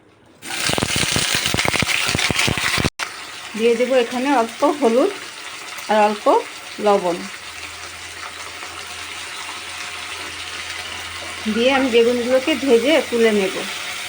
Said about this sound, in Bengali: এখন আমি কিছু বেগুন কেটে রেখেছিলাম সেই বেগুনগুলোকে ভেজে নেব